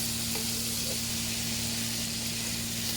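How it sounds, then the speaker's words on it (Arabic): Chicken liver and gizzards sizzle steadily in a hot pan while being stirred, a dense, continuous frying hiss with a low steady hum underneath and no talking. "الحين أقلب المكونات مع بعض، وضفت كمان الكبدة"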